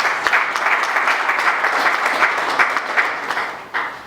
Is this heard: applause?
yes